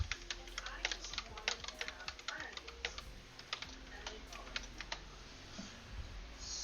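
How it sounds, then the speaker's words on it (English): Computer keyboard keys clatter in quick, uneven bursts throughout while League of Legends is played, close and fairly soft over a steady background hum. "Sorry, I was typing and I can't talk."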